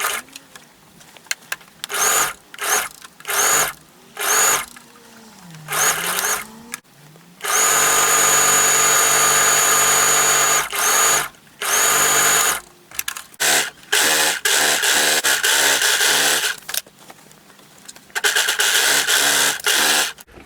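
A sewing machine stitches the shoulder and center back seams of a dress refashioned from a skirt, running in loud, steady bursts of varying length separated by brief pauses.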